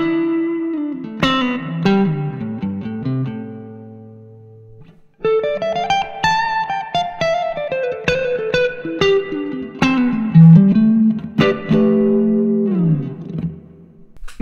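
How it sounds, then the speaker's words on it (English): Maybach Teleman T54 electric guitar played on its neck pickup with controls full up through an amp, picking out melodic single-note lines and chords with sustained ringing notes and a short pause before the phrase resumes. "We're gonna start with the neck pickup, everything full up, and it sounds like this."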